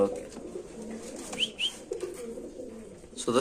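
Fancy pigeons at a large pigeon farm coo softly in low, rolling calls amid faint chirps, heard close in a quiet indoor space.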